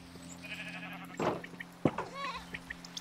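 Blocky Minecraft sheep bleat faintly at a distance, two or three wavering calls over a steady low hum and scattered soft game clicks.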